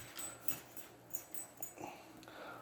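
Pet dogs in a home, faint whimpers, sniffs and small wheezy yips coming in scattered bursts, soft and somewhat distant.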